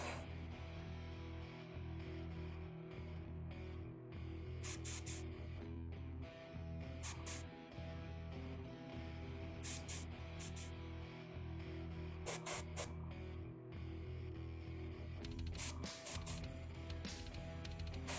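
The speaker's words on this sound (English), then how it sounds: "I'm just drying it off with the airbrush itself." An airbrush blows air to dry white paint on a Kingdom Death Elf miniature: a steady close hiss over a low mechanical hum, with short louder spray bursts recurring every few seconds.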